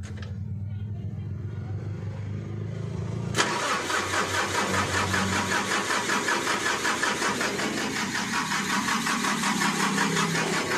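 Mitsubishi Canter 125PS truck diesel engine with poor tuning cranking, then catching with a sudden jump into a loud, steady rough running, close by.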